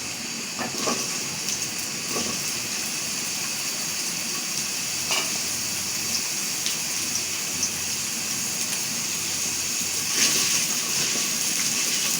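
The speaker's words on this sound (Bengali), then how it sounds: "দেব এই তেলে আলু ভাজে নেব" Potatoes frying in hot oil in a pan while cooking khichuri and country chicken curry, a continuous even sizzle with occasional soft clicks and scrapes, close and steady with no voices.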